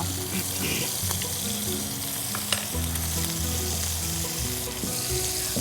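Prawns fry vigorously in a pan, producing a loud, dense sizzle with stirring scrapes and clatter throughout, and no talking.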